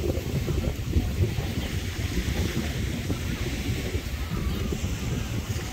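While parasailing off Koh Hae with a speedboat nearby, strong wind buffets the microphone in a constant, loud, low roar that never lets up.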